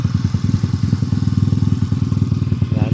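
A Mio i 125 scooter engine bored out to 246cc, with a Sniper head and block, idles steadily close by. It makes a fast, even clatter of firing pulses with no talk over it.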